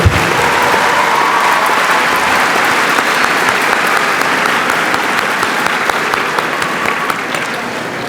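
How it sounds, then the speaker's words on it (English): Graduating seniors at a high school commencement ceremony give their parents and families a big round of applause, a loud, sustained wash of clapping from a large crowd that holds steady without letup. "Seniors, give your parents and family members a big round of applause for their love and support."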